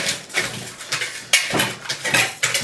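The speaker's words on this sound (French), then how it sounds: "Donc on continue à mélanger." Stirring and mixing a food preparation with olive oil: repeated scraping and clinking strokes of a utensil against a bowl, close and fairly loud, in an uneven rhythm.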